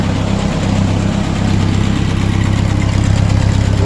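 A loud, steady low rumble of a Massey Ferguson 135 tractor engine idling nearby, constant and even throughout with no voices.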